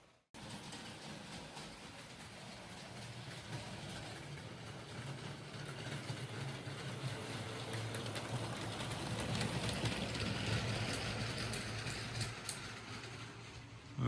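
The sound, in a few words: LEGO Disney train running on tabletop layout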